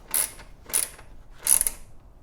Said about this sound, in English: I'm going to tighten down these pinch bolts